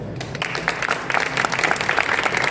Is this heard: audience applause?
yes